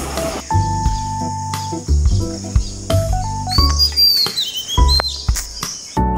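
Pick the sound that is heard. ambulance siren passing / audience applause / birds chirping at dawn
birds chirping at dawn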